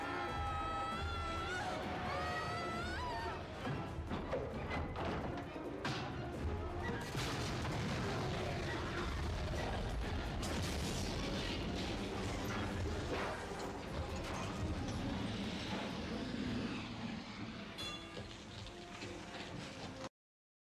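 A loud, chaotic action scene from The Lost World: Jurassic Park with a car exploding in a crashing blast and rumbling debris, gunfire-like bursts and shouting voices under a dense wash of noise.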